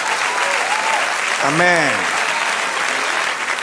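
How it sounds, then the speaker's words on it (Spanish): A church congregation breaks into applause for the Lord, a steady wash of clapping under a sustained sung or spoken tone, with a voice saying a brief word over it. "Dale un aplauso al Señor."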